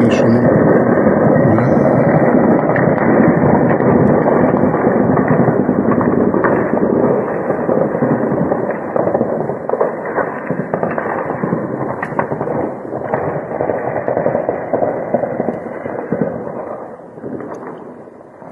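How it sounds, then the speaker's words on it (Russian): Artillery shelling during the war in Ukraine produces a continuous, loud, dense roar of booms and rumbling for the whole stretch, fading slightly toward the end. "Это уже четвертый заход, где-то по 3-4 минуты стреляют."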